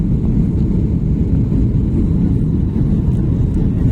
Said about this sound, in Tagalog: Ang ingay pala pag short flight lang.